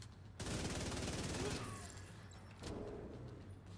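Rapid automatic fire from an F2000 rifle in The Division 2 comes as a dense burst. A quieter second burst follows, with game ambience and faint effects underneath.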